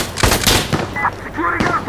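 Rapid bursts of rifle fire in the shooter game Insurgency Sandstorm, several sharp close shots in quick succession with a voice shouting over the gunfire.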